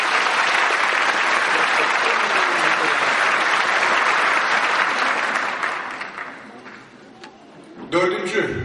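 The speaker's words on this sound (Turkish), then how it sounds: "Alkışlarımız Sayın Kazım Bey." Loud applause from an audience at a panel discussion fills most of the stretch, then dies down, followed by a brief burst of voices.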